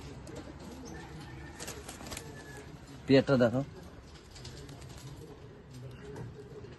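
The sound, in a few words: pigeons cooing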